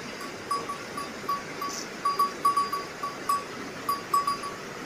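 Goats and buffalo moving along a mountain trail in Dhorpatan, Nepal, with a bell clanking in an irregular rhythm at mid distance over steady outdoor ambience; no talk.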